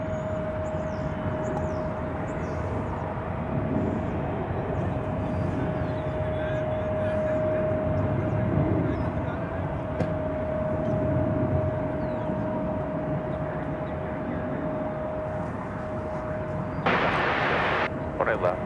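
An airliner takes off at DFW Airport bound for Abilene, a distant, steady jet roar with a sustained engine whine, heard under someone talking.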